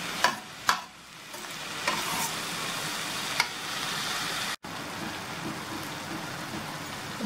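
Cabbage poriyal cooks in a pan with a continuous close sizzle and hiss. A few clinks and stirring taps come early on, and a brief break in the sound follows later.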